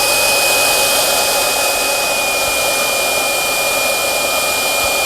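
A hair dryer blows steadily on bent, wavy fishing line, its loud, continuous airy roar and faint high whine unbroken throughout.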